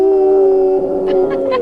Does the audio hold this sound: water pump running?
no